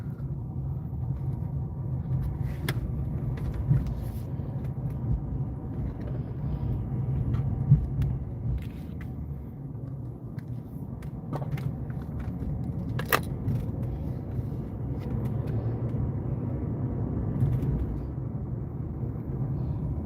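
Road traffic rolls past steadily, a continuous low rumble of cars with occasional brief clinks and ticks, moderately near and without any talking.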